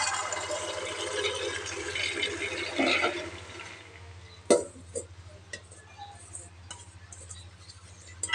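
Water rushes and splashes into a pressure cooker holding washed lentils for a chaat dish, a steady pour over about four seconds, then a few quieter clinks and drips over a low hum.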